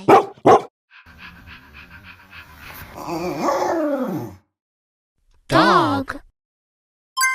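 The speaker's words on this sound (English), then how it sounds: "Dog." A dog barking and panting in a kids' learning clip: two sharp barks, then breathy panting and whining yips, a pause, and a further loud bark burst, close and clear.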